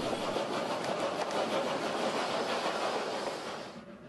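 Eureka & Palisade No. 4 steam train climbing the Durango & Silverton line in the Rockies, nearing a highway crossing: a steady, loud rumble of rolling cars and engine that holds for several seconds, then eases off at the end.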